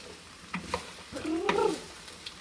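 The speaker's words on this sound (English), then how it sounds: "Just keep stirring." A spoon stirring yellow courgette soup in a pot, a few soft scrapes and clinks with a brief louder swirl, fairly quiet.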